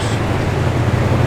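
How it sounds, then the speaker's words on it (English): A 1970 Buick Gran Sport engine runs on high idle with the choke on, a steady low rumble that stays loud and constant without any talk. "You can hear the choke works and everything is still on high idle."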